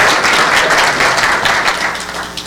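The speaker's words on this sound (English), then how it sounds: "we should give him another big round of applause" A large conference audience applauds for Tom, a retiring member, at an annual membership meeting: dense, steady clapping that holds loud for the full stretch with no voices.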